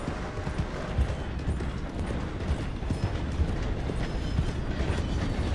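A train rolls past in Red Dead Redemption 2, a loud, dense steady rumble with rhythmic clacking and mechanical rattle filling the whole stretch, no talk over it.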